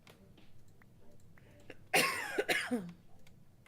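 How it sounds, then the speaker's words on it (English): A single sudden cough, then a rough throat-clearing rasp, close and loud against a quiet background with faint ambient murmur. "Cough, cough."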